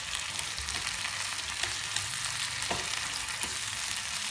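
Peeled shrimp stir-fry with browned shallots in a pan, giving a bright steady sizzle with occasional soft utensil taps, close and continuous with no voices.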